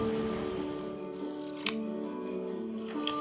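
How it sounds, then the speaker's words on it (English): Two crisp snips of scissors, close and distinct, over a steady humming background with no talk. "Those scissors sounded good."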